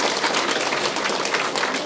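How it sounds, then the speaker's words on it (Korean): Audience applause at a Buddhist Dharma lecture hall, a dense steady patter of many hands clapping, loud and close for the whole moment. "오늘 지금 박수 쳐야 돼"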